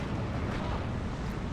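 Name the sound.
big explosion in video game Steel Division 2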